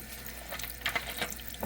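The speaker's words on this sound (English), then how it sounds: "So we're gonna add some water," Tap water runs over raw ribs in a sink to wash them, a soft close splashing and trickling with small irregular spurts.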